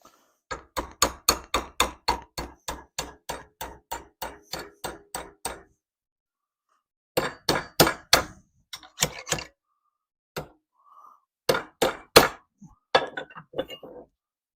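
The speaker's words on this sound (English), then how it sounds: "Now I need 90-degree bends on these, so I use a hammer and my vise." Metal brackets clamped in a vise being hammered into 90-degree bends: a rapid run of sharp, ringing strikes, then a pause, then further irregular bursts of close, loud blows.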